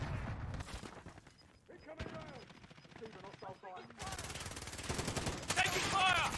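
Gunfire in the video game Warzone, rapid bursts of automatic shots that drop out briefly and then resume louder and denser, mixed with a player's voice talking over the shooting.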